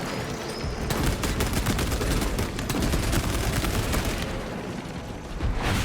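Heavy bolter fire in the game Space Marine, a dense, loud, sustained stream of rapid gunshots that runs almost unbroken for several seconds before easing near the end, with no voices over it.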